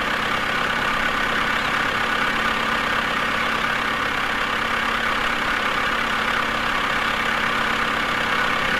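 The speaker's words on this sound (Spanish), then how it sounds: "Vamos al bosque a cortar con el tractor." A tractor engine idling in the logging video game Woodcutter Simulator 2013, a steady, even drone held loud and unchanging throughout.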